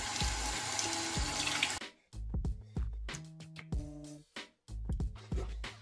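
Running tap water pours steadily into cold water to cool a boxing mouthpiece, then gives way to intermittent splashes and drips with short gaps between.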